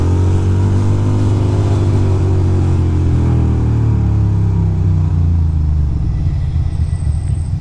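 A motorcycle being ridden, its engine rumbling loud and close throughout with rising and falling revs and steady road noise, no talking.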